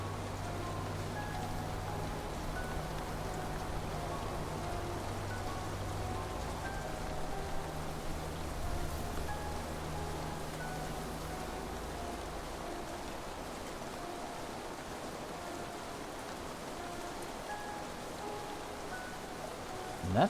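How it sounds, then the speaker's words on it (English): Heavy rain falls steadily in the game Whispering Willows, a dense, even hiss of drops that holds for the full stretch without letting up. "heavy rain like this is never a good thing"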